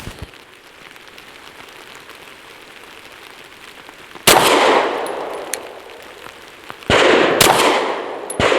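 Two loud gunshots from a ported Derya Arms DY9 pistol firing Winchester Defender 147 grain ammunition, each a sharp crack with a ringing tail, the first near the middle and the second near the end, over steady outdoor background noise.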